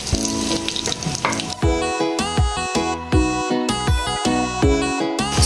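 Fried onion sizzling in a little oil in a pressure cooker, with a loud crackling hiss broken by repeated rhythmic stirring scrapes and clanks, no voices.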